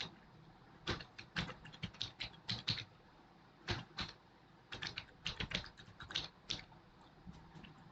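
C++ code is typed on a computer keyboard, a quiet close-up clatter of quick keystroke bursts separated by short pauses.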